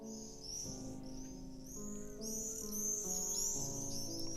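Swifts give high, thin screaming calls in repeated bursts, some close and some farther off, over a steady background of low sustained tones.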